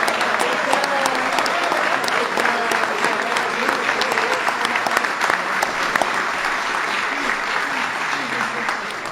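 Standing ovation at the White House for a basketball team: sustained dense applause from a large crowd, steady and loud from start to end, with scattered cheers and whoops on top.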